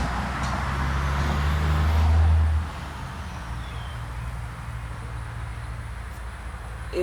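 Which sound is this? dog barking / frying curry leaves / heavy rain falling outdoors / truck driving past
truck driving past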